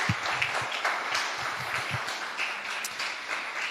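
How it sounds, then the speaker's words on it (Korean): An audience at a civic education lecture in a hall in Gokseong, South Jeolla, claps steadily to welcome a guest, a dense, even applause that continues throughout at moderate volume. "박수로 한번 환영하겠습니다."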